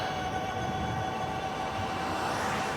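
A Euphree Stellar Falcon hybrid e-bike motor under throttle gives a steady whine over constant wind rush, loud and even throughout, with the pitch rising slightly toward the end.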